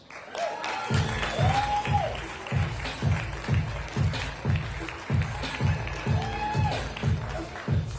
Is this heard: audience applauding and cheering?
yes